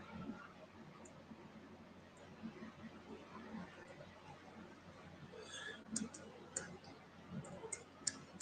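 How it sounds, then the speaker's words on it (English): A computer keyboard clicks faintly as a search is typed, with sparse soft taps that grow into quicker bursts toward the end. "We can type it into the internet."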